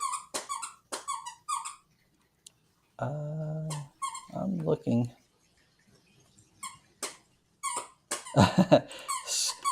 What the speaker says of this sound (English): Squeaker toys are fun for dogs because it sounds like an animal in distress.